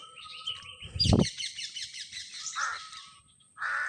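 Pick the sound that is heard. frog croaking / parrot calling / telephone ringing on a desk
parrot calling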